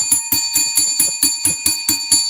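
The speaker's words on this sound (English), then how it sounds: "Let's ring the bell" A bell rung over and over, about ten loud, evenly spaced strikes in just over two seconds, each with a bright ringing tone that carries into the next strike.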